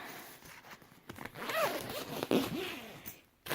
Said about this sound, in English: And we just unzip this.